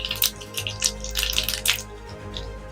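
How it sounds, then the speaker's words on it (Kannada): Mustard seeds and cumin splutter in hot oil in a pan, giving sharp, irregular crackling pops in quick bursts over a low background hum, close up and without voices. "ಸಾಸಿವೆ ಚಟಪಟ ಚಟಪಟ ಅಂತ ಸಿಡಿತಾ ಇದೆ."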